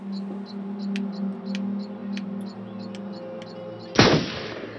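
A single gunshot fired in the Until Dawn video game, a sharp loud burst near the end following steady game ambience with a low hum and faint chimes.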